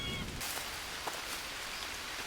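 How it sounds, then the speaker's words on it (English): Rain falls in a survival video game as a dense, steady hiss of drops, constant throughout with a few slightly louder patters. "No, don't rain."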